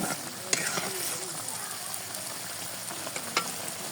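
A spice paste of ground onion, ginger, garlic, cumin, dried chilli, cardamom and cinnamon fries for magur fish curry, giving a steady close sizzle with a few sharp spatula scrapes and taps.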